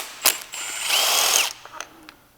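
Ratchet with a spark plug socket removing iridium spark plugs from a Hellephant engine during a teardown: one loud, close mechanical whirring burst of about a second, framed by sharp clicks and clanks.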